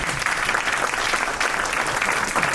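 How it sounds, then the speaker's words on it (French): Audience at a meetup applauds steadily, a loud continuous wash of clapping with no gaps, close and even throughout. "On applaudit pour l'encourager."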